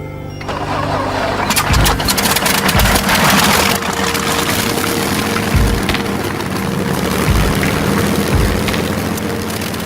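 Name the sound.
Rolls-Royce Merlin piston aircraft engine running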